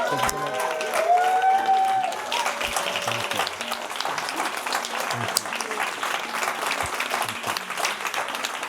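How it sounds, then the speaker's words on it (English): A seminar audience gives a sustained round of applause, dense clapping with some cheering that carries on for several seconds, while a voice thanks the crowd over it. "Give yourself a round of applause."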